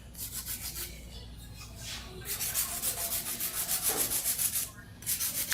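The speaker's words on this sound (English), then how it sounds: "It's a very efficient way of filing." A hand file rubs rapidly back and forth across a long acrylic nail being shaped for ombre nail art, giving close, steady rasping strokes in quick rhythmic bursts with a brief pause near the end.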